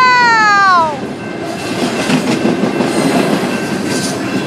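Alpine railway train rumbling loudly past, a falling tonal whine in the first second giving way to steady broadband rolling noise that continues throughout.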